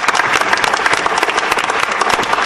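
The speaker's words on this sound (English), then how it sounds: "Let's give a great round of applause for Kerry and Eric for that" A medical conference audience applauds two presenters, with loud, dense, continuous clapping from many hands filling the room, sustained at an even level throughout.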